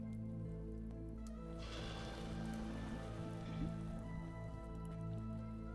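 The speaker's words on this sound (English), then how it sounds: "we're going to pour it into the anvil mold." Molten copper is poured into an anvil mold in the Vintage Story video game, a soft rushing, sizzling pour that swells in the middle of the clip over steady droning game music.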